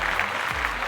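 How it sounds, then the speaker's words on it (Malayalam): Studio audience clapping on a travel game show, a brisk, even wash of many hands from a nearby crowd, with a faint voice briefly underneath. "എല്ലാവരും ഒന്ന് കൈയടിച്ചേ"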